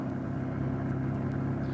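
A car drives along in a radio drama scene, with a steady low engine rumble and road hum heard from inside, continuous and even, with no voices.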